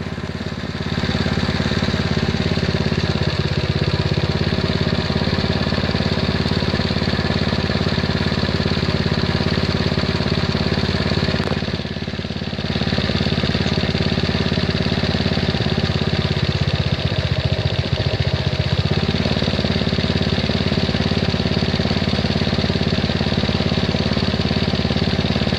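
A small engine drives a power sprayer pump in an eggplant field, running loud and continuous at a steady idle-like drone, dipping briefly once partway through.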